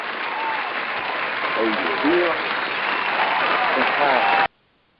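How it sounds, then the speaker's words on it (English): A studio crowd cheers and applauds loudly as a guest group comes in, a steady roar of clapping and whoops with voices mixed in, cutting off abruptly at the end. "you bring your guests in, man, with the crowd going crazy like that"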